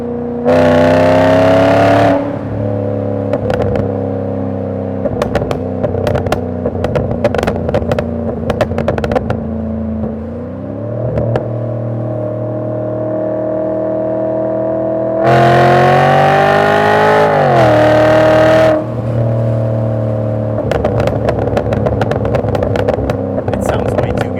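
A Volvo S80 V8 with a custom exhaust revs and accelerates hard, a loud throaty engine roar that rises in pitch through several gear pulls, with crackling pops between them and a louder burst partway through, close up.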